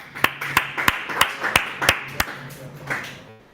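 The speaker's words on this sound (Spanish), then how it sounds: "Bien, muchachos, un aplauso, por favor." A small group of students applauds at the end of a CNC router design presentation, giving about a dozen distinct, fairly close claps in a loose, uneven rhythm that thins out and stops, with no talking.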